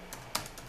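A few quiet keystrokes on a computer keyboard while entering a terminal command, with one sharper clack in the middle.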